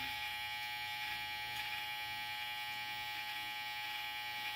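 Electric hair clippers buzzing while cutting a person's hair, a steady close high-pitched electric drone with slight variations in tone as the blades move, no talk over it.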